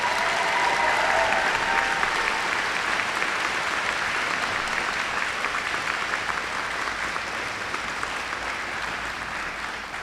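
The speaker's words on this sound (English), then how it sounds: "Let's give her a round of applause." Steady, dense audience applause at a graduation ceremony for the principal, Dr. Stephanie Baddick, a broad wash of many hands clapping continuously for ten seconds with faint crowd murmur and a brief tonal sound early on.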